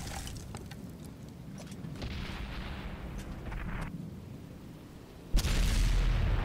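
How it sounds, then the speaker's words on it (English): Artillery cannon fire from an SU-8 self-propelled gun in World of Tanks, with scattered sharp reports over a low rumble, then a sudden loud boom near the end. "we have a SU-8 with a big giant freaking cannon"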